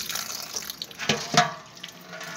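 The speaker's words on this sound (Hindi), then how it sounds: "ठंडे पानी से इनको वॉश कर लें।" Cold tap water runs over boiled macaroni being rinsed, a close steady splashing stream with a few louder gushes and drips partway through.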